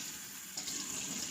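Tap water runs and splashes into a bathroom sink while a face is rinsed, a steady close wash with a few brief sloshes partway through, no voices.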